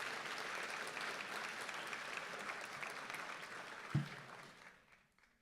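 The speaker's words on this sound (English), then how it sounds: "So a warm applause for Victoria." Sustained applause from an awards ceremony crowd, steady and dense, tapering off near the end with a single louder thump.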